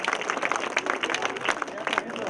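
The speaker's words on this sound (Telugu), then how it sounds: "క్లాప్స్ కొట్టారు అందరూ" A crowd claps together at a school event, producing a dense, steady patter of hand claps with crowd noise throughout.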